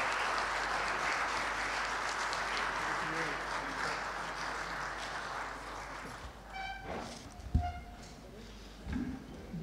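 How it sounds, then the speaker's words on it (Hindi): An audience at a cheque distribution event in Karachi applauds to welcome the Sindh chief minister, with sustained clapping that fades after several seconds into a few scattered sounds and faint voices. "जनाब सैयद मुराद अली शाह साहब से, आपकी तालियों की गूंज में के तशरीफ लाएँ और खिताब फरमाएं।"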